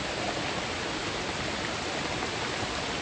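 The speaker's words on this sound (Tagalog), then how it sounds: "Umuulan ng malakas." Dense, steady hiss of heavy rain pouring continuously, broadband and unbroken, with no voices.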